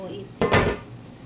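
A lid placed onto a steaming pot in which tofu and milkfish are cooking, a single short metallic clank close by, surrounded by quiet kitchen background.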